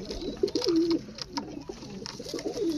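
Pigeons in a loft coo close by, repeated rolling calls rising and falling in short bursts over a soft background of other birds.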